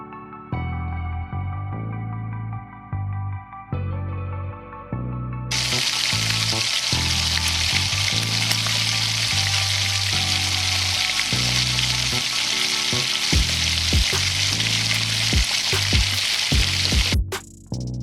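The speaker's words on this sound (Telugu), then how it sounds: "ఒక ప్యాన్లో ఆయిల్ పోసుకొని బాగా వేడయ్యాక కొంచెం కొంచెం వేసుకోవాలి పకోడీ బ్రౌన్ కలర్లో వచ్చేంత వరకు వేగనీయాలి" Pakoda fritters dropped a little at a time into well-heated oil, a loud, continuous bubbling sizzle that starts abruptly and holds steady over soft background music until it cuts off near the end.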